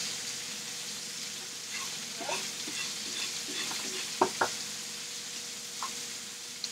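A ribeye steak sears in a hot pan, producing a steady close sizzle throughout with a few sharp clacks of tongs or utensils against the pan near the end; nobody talks.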